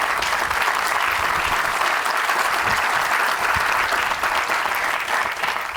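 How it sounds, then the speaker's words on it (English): Sustained applause from a seated audience at the South Niagara Hospital groundbreaking ceremony, dense and steady for the whole stretch with no letup. "I prompted Jim Diodati to lead the applause on that particular line"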